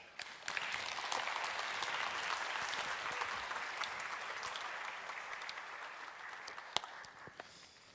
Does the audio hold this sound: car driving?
no